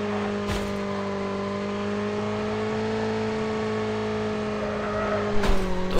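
Steady engine drone of a motorbike being ridden in Call of Duty Mobile, a sustained even hum with a brief thump near the start and another near the end.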